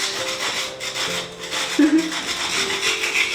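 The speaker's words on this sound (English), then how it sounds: "Never ever have I sanded a brick wall with beautiful sleeves like these." A brick wall in an old house is sanded by hand, giving a steady, close rasping and rubbing that carries on throughout with little pause.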